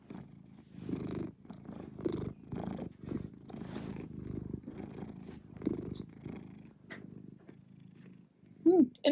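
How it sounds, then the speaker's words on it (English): A male house cat grooming himself purrs steadily and close, a low rumbling pulse with soft licking and rustling sounds over it. "Here's some quality footage of my cat having his morning bath."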